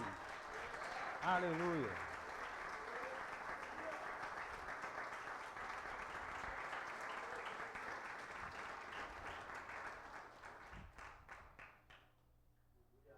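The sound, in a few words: church congregation applauding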